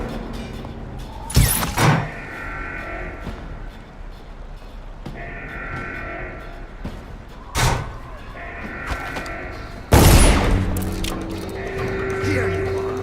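Gunfire from guards in the stealth game Dishonored: three sharp, loud shots spaced several seconds apart over a steady game ambience, with the last blast ringing out longest.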